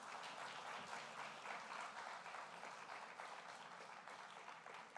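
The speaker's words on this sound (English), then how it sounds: "Let's give it a huge round of applause." An audience claps steadily at the inauguration ceremony of the Film Bazaar film festival, producing a dense, even wash of applause that holds at a moderate level for several seconds with no talk.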